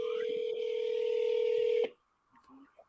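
Close, loud telephone tone from a keypad on a mobile phone during cold calling, one long steady tone for nearly two seconds that cuts off sharply, then a faint short tone and near silence.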